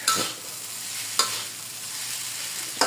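A spatula scrapes and stirs fried rice around a wok with a soft background sizzle, marked by three distinct scraping strokes spaced about a second apart and no voices.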